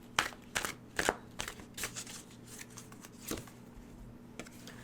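Tarot cards shuffled and drawn by hand, a series of quick, close riffling and flicking bursts with brief pauses between them.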